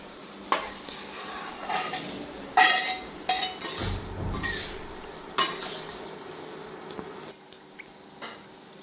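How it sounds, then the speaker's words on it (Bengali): Intermittent scraping and clinks of a utensil stirring spice paste frying in oil in a pan, over a soft background sizzle; quiet, with gaps between the strokes. "এখন আমি একটু নাড়াচাড়া দিয়ে দেখেন মশলাটা কত সুন্দর ভাজা হয়েছে, কষানো হয়েছে।"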